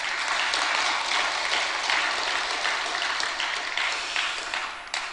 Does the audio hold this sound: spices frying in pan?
no